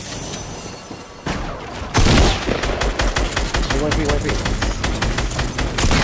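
Pump shotgun blasts and rapid gunfire in a Fortnite Battle Royale match, loud close shots cracking in quick succession after a quieter start, while a player talks over the fight.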